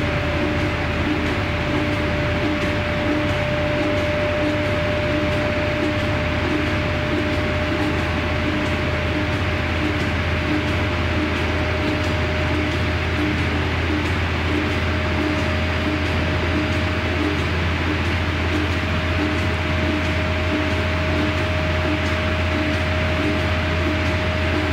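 A Fisher and Paykel Washsmart 8.5kg washing machine spinning at 1000 RPM, a steady unbroken motor whine with a low rumble holding level throughout.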